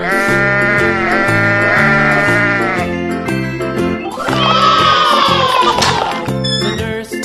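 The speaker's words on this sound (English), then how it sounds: "Sheep." Sheep bleating repeatedly among other farm-animal sounds, loud and close, over a bright, tonal backing that sounds like a sung children's tune or jingle.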